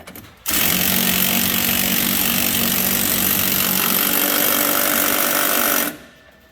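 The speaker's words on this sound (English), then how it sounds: "This impact wrench goes to 130 foot-pounds" Impact wrench driving the front shock bolts on a Jayco Seneca motorhome: one continuous loud, close rattling hammer burst of about five seconds that stops abruptly.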